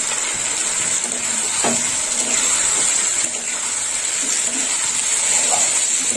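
Tomato pieces tipped into masala frying in a pan for a fish-head curry with fried potato, a loud steady hiss and sizzle with a few soft drops and stirring scrapes, close up.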